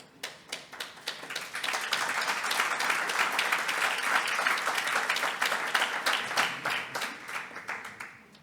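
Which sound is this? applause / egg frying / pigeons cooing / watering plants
applause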